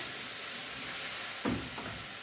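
Onions and tomatoes frying in oil for Afghani borani baingan, a soft steady sizzle with a couple of brief stirring scrapes near the middle.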